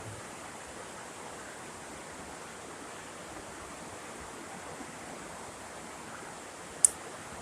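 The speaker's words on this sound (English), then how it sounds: "I don't know if you guys can hear that water or not" Steady broadband rush of a partly frozen stream flowing in Gatlinburg, continuous and even throughout, with a single brief sharp click near the end.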